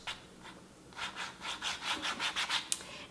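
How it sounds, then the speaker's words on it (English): Fingers rubbing white paint into a canvas, producing rhythmic scrubbing strokes that start sparse and become a steady back-and-forth rasp, close and moderately loud. "I'm kind of just rubbing my fingers into the canvas with"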